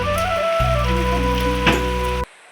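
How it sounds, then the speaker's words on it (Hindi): Heavy rain pours down in the Himachal mountains: a steady, dense hiss of drops that holds for about two seconds, then cuts off abruptly. "और बारिश बढ़ने लग गई है और झमाझम बारिश हो रही है अभी।"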